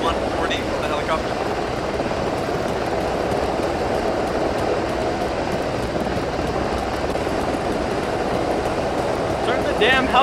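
Helicopter in the military shooter game Arma, a loud continuous rotor and engine roar that fills the whole stretch with a steady rumbling texture, while voices talk over it.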